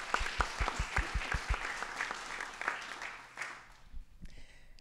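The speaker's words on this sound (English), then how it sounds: "if we could give a round of applause to acknowledge their efforts as well" An audience at a neighborhood town hall meeting claps in scattered bursts that thin out and fade over a few seconds.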